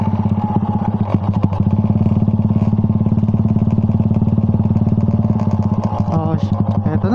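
Kawasaki HD3 two-stroke motorcycle engine runs steadily close by, a loud, even rapid putter with a rattling clatter that holds without pause throughout.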